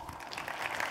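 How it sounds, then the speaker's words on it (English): Keynote audience applauds a presenter walking on stage, a steady hiss of many hands clapping together throughout, fairly soft and growing slightly louder toward the end. "Let's give Paul Gunning a big round of applause"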